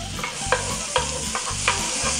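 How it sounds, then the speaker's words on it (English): Butter sizzling in a hot pan, a steady close frying hiss with soft rhythmic scraping or stirring strokes repeating about every half second. "In a hot pan, we put butter."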